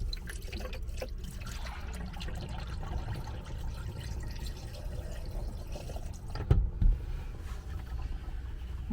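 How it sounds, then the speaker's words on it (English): Liquid is poured down the shower drain of a 2017 Roadtrek Simplicity RV during winterizing. A continuous trickling, gurgling wash runs throughout, with a brief louder splash near the end. "So let's pour a little bit into there."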